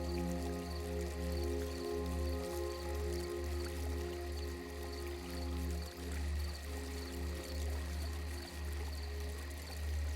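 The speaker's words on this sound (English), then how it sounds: "The sound of the fountain becomes your focus." A garden fountain trickles and splashes in a steady, continuous flow, close and even, with soft babbling water and no voices.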